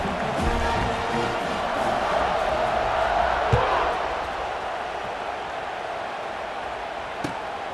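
Stadium crowd roaring at kickoff in the College Football 26 video game, a broad sustained wash of cheering that swells and then eases, with a couple of sharp thumps.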